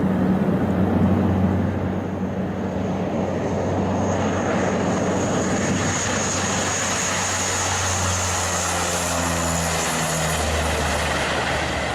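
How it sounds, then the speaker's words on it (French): A propeller aircraft's engine drones loudly and steadily throughout its takeoff from a dirt runway in bad weather, the low tones rising and shifting in pitch as it gathers speed, with a broad windy roar layered over it. "Voici à quoi ressemble le décollage d'une piste en terre battue par mauvais temps."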